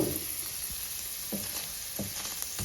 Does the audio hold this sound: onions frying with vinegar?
yes